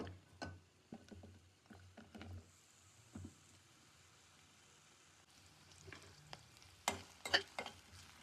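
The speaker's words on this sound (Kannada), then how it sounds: "ಈಗ ಈರುಳ್ಳಿ ಹಾಕ್ಕೊಂತೀನಿ." Onions frying in a pan for a Karnataka-style avarekalu huli saaru, with steady sizzling under intermittent stirring scrapes and knocks of a spoon against the pan, heard up close without speech.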